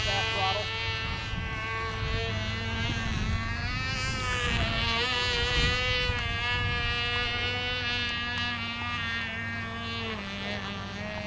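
A model aircraft engine buzzes at half throttle, a high, steady, nasal drone with slight pitch wavering, close and continuous, with voices faintly beneath.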